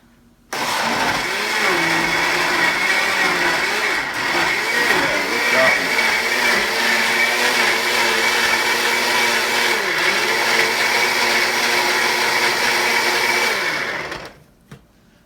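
Food processor running on its chop setting for a sloppy joe mixture, a steady loud motor whir lasting about fourteen seconds before stopping abruptly.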